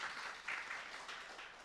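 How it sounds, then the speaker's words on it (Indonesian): Audience clapping for a university rector at a formal governance event, a steady patter of applause across the room with no voices. "Beri tepuk tangan dulu untuk Bu Maria kali ya."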